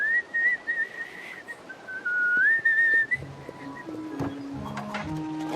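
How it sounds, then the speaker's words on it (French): Someone whistles a short wavering tune for a few seconds, then soft clattering and knocking sounds follow. "Parfois, quand j'ai peur d'essayer quelque chose de nouveau, je sifflote."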